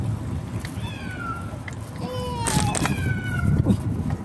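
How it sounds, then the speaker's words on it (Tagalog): A cat meows several times outdoors on a street, rising and falling calls cutting through steady traffic and background noise, fairly clear and close, with a voice speaking faintly underneath. "Uy, tapang ng pusa."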